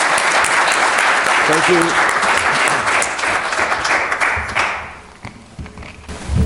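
Audience applause at a town candidates night, a loud, dense round of clapping filling most of the stretch before thinning out toward the end, with a brief thank-you spoken over it.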